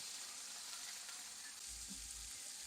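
Shrimp sizzle steadily in a hot pan, a constant close-range frying hiss with a brief low stir or clatter near the end; no one speaks.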